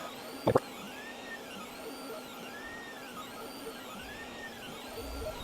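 3D printer on an Elegoo Orangestorm Giga feeding filament through its print head, heard as a steady mechanical whir with repeating rising and falling motor tones and one brief clunk near the start.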